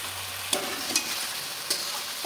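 Masala sizzling in a pan while fried egg and potato are stirred in for a simple egg biryani, a steady frying hiss broken by a few sharp scrapes of a spoon.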